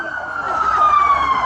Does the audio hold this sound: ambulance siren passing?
yes